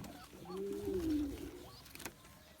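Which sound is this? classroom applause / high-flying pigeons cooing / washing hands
high-flying pigeons cooing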